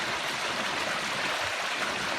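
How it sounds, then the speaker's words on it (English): A small mountain stream on the John Muir Trail trickles and rushes steadily, a close, even wash of water with no voices. "Kind of tiny little stream crossing."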